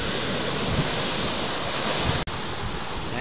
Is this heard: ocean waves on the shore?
yes